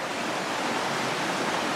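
Steady broadband rush of a river flowing beside a pleasant riverside spot, continuous and fairly close, with no voices.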